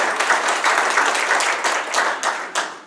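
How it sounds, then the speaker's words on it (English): An audience at a county supervisor and congressional district candidate forum applauds with dense, steady clapping that stays loud for about three seconds before thinning slightly. "So I want to give you guys a round of applause for sticking with this forum."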